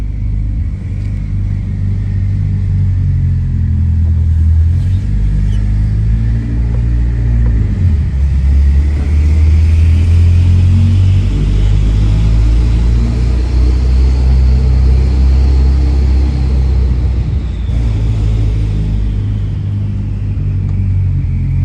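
Mitsubishi Lancer Evo X with ongoing faults being driven, a loud, close, continuous engine rumble that rises and falls as it accelerates and shifts, with no talking.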